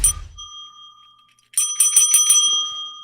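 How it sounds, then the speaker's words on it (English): A bicycle-style bell rings twice: one bright ding that decays into silence, then a rapid burst of about five metallic trills, loud and close, with no talk. "Ring that bell."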